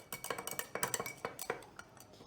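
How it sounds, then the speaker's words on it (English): A thermometer stirs a mixture in a glass beaker during a school chemistry practical, making a quick, irregular series of light glassy clinks and taps, fairly close and with no voices. "stir the mixture using the thermometer"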